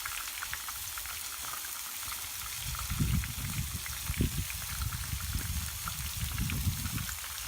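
Onion rings and a smash burger frying in hot oil and on a griddle, a loud, steady close-up sizzle with bubbling swells that build toward the middle and end, no talking.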